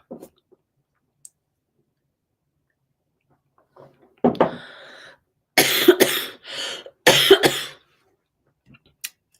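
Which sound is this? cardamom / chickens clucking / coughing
coughing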